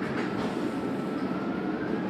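A tram runs along its tracks with a steady close rumble and mechanical hum, continuous and even for about two seconds, with no voices.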